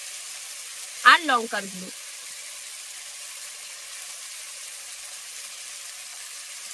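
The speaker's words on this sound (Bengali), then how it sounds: "আদাটা তেলের মধ্যে পড়ে গেলেই প্রচুর পরিমাণে তেল ফেটাতে শুরু করবে" Ginger, turmeric and ground spices sizzling in hot frying oil for a potol dish, a steady, even hiss running under one short spoken phrase near the start.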